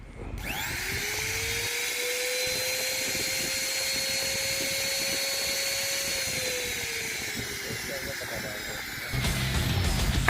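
An electric wood trimmer router, set up with left and right bases, runs continuously with a high steady whine and airy hiss, its pitch holding then dipping slightly near the end, close and loud.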